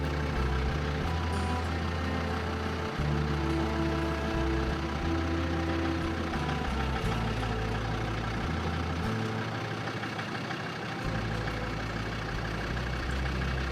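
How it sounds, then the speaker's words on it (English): A vehicle engine runs roughly while driving, a steady low drone with uneven pulses and a note that shifts every few seconds, loud and continuous with no talk. "We just drove a couple of kilometers and the engine is not running smoothly."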